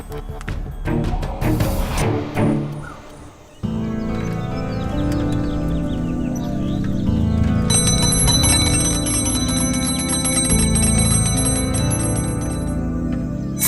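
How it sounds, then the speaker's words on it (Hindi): A bell rung repeatedly at a home's door or gate, bright, steady ringing tones continuing for several seconds amid a busy room, after a loud burst of clatter at the start. "क्यों घंटी बजा रहा है?"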